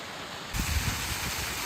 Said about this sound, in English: Another beautiful little waterfall here, coming down the rocks.